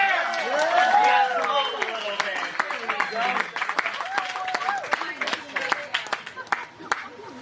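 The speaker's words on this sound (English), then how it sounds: "we can give them a round of applause" Guests at a wedding reception applaud and cheer. The scattered clapping and raised voices run for several seconds, with talk mixed in throughout.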